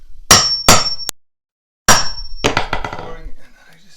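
A board is hammered sideways against a floorboard during a small apartment floor renovation, giving sharp clanging blows: two quick strikes and a tap, a pause, then a blow followed by a rattling series of lighter knocks.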